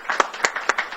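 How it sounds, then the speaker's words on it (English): Audience applause at a hospital grand rounds research day, a short burst of scattered hand claps in a room, moderately close and fairly light, with individual claps distinct. "So one more round of applause for our oral abstract winners."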